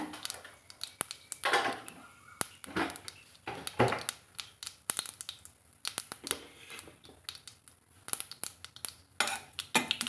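Irregular crackling pops and sputters burst in quick, uneven clusters as spices are tempered in hot oil for a salna curry nearby, with brief quiet gaps between.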